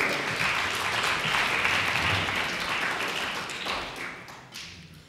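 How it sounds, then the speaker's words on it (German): An audience applauds at a youth speech contest, a dense, even wash of clapping that holds strong for several seconds and then gradually thins out toward the end. "Das ist nochmal ein Applaus."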